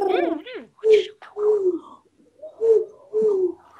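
A person imitates owl noises with a series of about six short hooting and cooing calls, separated by brief silences and delivered close and clearly.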